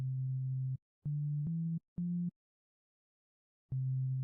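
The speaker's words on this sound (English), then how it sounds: "now I have a basic wobble bass" Basic synth wobble bass built in FL Studio, a low sustained tone cut into separate bursts with small pitch shifts between them and a pause before it returns, loud with no talking.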